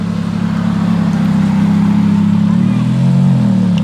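A McLaren 720S supercar with a non-standard exhaust holds a loud, low, droning engine note close by, rising slightly in pitch near the end, with people talking over it.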